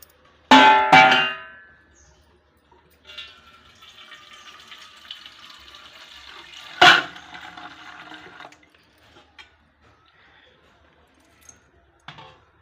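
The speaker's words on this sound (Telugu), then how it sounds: "ఇప్పుడు దీంట్లోని మనం కొద్దిగా వాటర్ వేసుకోవాలి" Water poured into a thick soapnut (kunkudu) juice mixture, a steady trickling pour lasting several seconds with a brief clatter of the container before it and a sharp knock in the middle, no talking.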